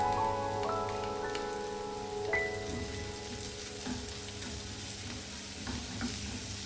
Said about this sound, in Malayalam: അതിലേക്ക് പിന്നെ ഉള്ളിയും പച്ചമുളകും ഒക്കെ ഇട്ട് കുറച്ചൊന്ന് വഴറ്റിയെടുക്കുക